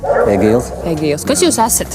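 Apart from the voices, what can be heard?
dog barking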